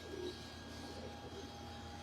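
Pigeons at a breeder's loft give a soft, distant coo or two over a steady low background hum.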